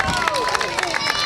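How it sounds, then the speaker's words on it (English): A Highland Games crowd cheers and applauds the defending strongman champion, a dense, loud, steady wash of clapping and voices. "big round of applause for the defending 2023 District Highland Game champion"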